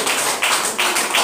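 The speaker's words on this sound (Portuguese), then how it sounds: "bate palmas para Jesus" A church congregation claps together in praise, a loud, close burst of many hands with rhythmic surges roughly every third of a second.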